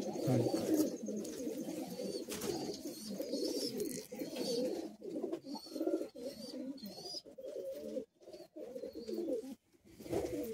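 Madrasi high-flying pigeons coo in a loft in Kolkata. Several birds give continuous, overlapping low throaty coos, close by, with a few brief pauses.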